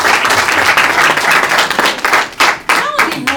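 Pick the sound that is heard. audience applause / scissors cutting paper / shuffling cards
audience applause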